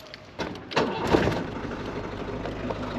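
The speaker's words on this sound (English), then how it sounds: "So I'll just start the engine" A camper van engine cranks and catches near the mic with a few rising bursts, then settles into a steady low idle.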